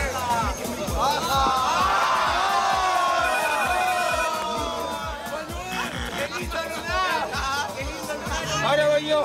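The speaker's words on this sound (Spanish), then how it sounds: "¡Un aplauso para Yendri!" A crowd cheers and whoops for Yendri in a lively, echoing mix of voices with rhythmic claps or thumps underneath, fairly loud throughout, with excited shouting mixed in.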